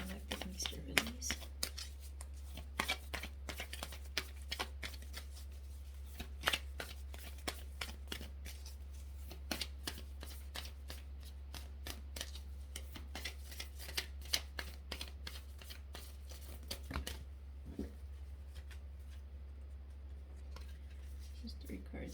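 Tarot cards being shuffled close by, a long run of quick, crisp riffling and flicking taps that goes on continuously and quietly, over a low steady hum, with a voice speaking at times.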